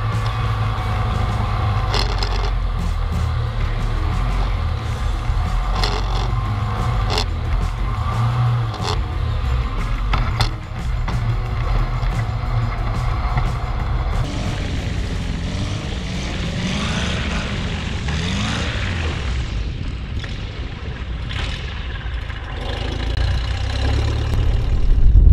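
A STOL propeller airplane lands in strong winds of around 40 mph, its engine droning steadily and loudly throughout, with wind buffeting and a rising roar toward the end.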